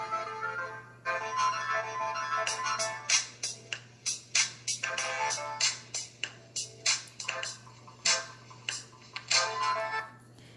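Stock ringtone of a factory-reset Motorola RAZR V3C phone, a bright electronic melody of repeated short tones in rhythmic bursts, played close and clear over a faint steady hum, with no talking.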